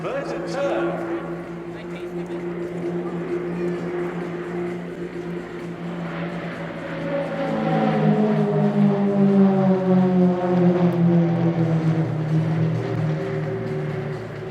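A Royal Jordanian Falcons Extra 330LX aerobatic aircraft performs a flying display at an airshow, its propeller engine droning and rising in pitch as it passes, with a commentator talking over it.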